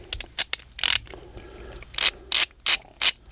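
Ratchet clicking from a Klein Tru-Grip ratcheting screwdriver, several short crisp bursts of clicks close to the microphone, separated by quiet gaps, with no talk.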